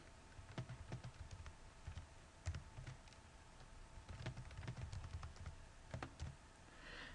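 Dates being typed into a spreadsheet on a computer keyboard: quiet, close, irregular clusters of key clicks with short pauses between bursts, in an otherwise still room.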